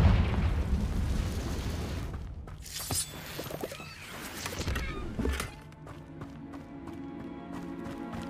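A Confringo fire spell explodes in the Hogwarts Legacy video game: several loud booming bursts with rumbling tails, then the blasts fade into a steady tonal hum.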